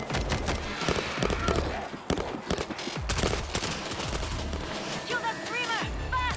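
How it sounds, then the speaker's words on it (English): Mounted stationary gun firing in World War Z Aftermath on a Tokyo level, rapid repeated bursts of shots mixed with other gunfire and game chaos, loud and continuous with voices calling out underneath. "I set up a stationary gun!"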